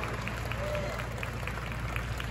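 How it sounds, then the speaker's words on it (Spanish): Applause from an outdoor crowd at a Guinness record event in Irapuato, Mexico, for the world's largest jug of strawberry agua fresca; steady, moderately faint clapping with crowd noise and a voice murmuring beneath. "Un aplauso, por favor, para nuestros invitados especiales."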